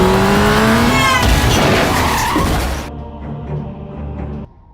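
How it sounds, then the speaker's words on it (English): A car roars past with long, screeching tire skids during a police chase, engine revving loudly, then the noise drops to a quieter rumble before cutting off. "The cops and the gangsters chase him, and a prolonged car chase happens."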